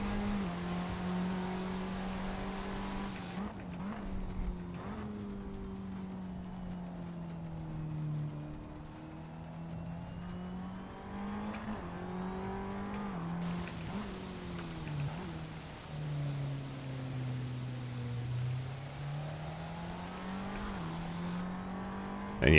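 A race car on rain tires in Assetto Corsa drones steadily through a lap, its engine pitch rising and dipping with gear shifts and corners, a constant loud hum with a faint hiss of spray behind it and no voices.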